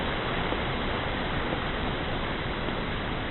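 Steady, dense rushing of water pumped out the end of a hose, loud and continuous with no pauses, like a strong stream pouring out.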